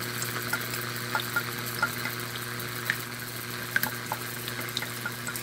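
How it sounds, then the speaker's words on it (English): An ultrasonic mist maker running in hot water bubbles and fizzes steadily, a constant hum under small crackling pops, close and alone with no voices. "it actually has a much louder and more aggressive boil than with the cold water"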